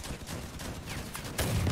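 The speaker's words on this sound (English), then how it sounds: "They tag teamed me with the cannon." Cannon fire in the vehicle combat game Crossout comes as a rapid burst of gunfire-like blasts, with a heavier boom toward the end.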